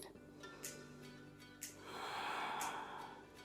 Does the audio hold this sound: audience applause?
no